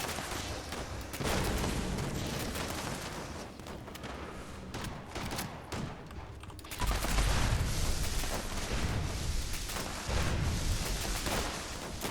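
Handmade rifle fire in Fallout 76 comes as dense, continuous bursts of loud gunshots and explosive booms. The barrage carries on almost without pause, with a louder surge midway. No one talks over it.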